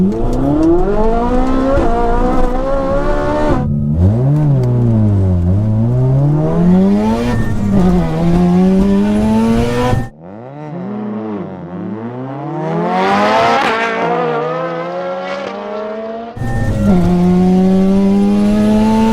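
A supercar and a tuner car race down a quarter-mile drag strip, their engines roaring loudly in repeated rising revs and gear shifts before the sound drops away and builds again.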